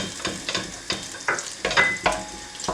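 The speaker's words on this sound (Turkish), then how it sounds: "Tereyağımız eridi ve salçamı içine bırakıyorum" Tomato paste sizzles in melted butter in a pot, with rhythmic scraping strokes of stirring every half second over a soft, steady frying crackle.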